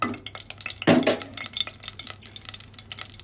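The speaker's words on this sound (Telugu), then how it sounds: "ఆవాలు కొంచెం చిటపట్లు ఆడాలన్నమాట" Mustard seeds splutter in hot oil while tempering for an ivy gourd and moong dal curry. A busy crackle of small pops runs throughout, with a louder burst of spitting near the start and no talking.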